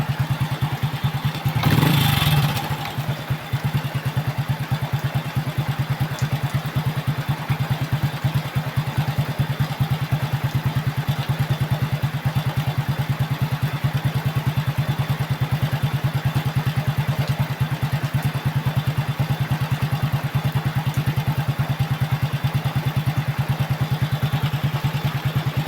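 A repaired Honda XRM motorcycle engine idles steadily at close range, a brief louder burst near the start settling into an even, continuous chugging hum with a slight clatter.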